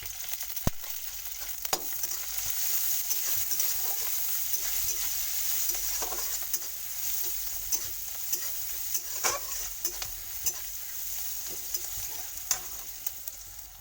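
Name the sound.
spice tempering sizzling in hot oil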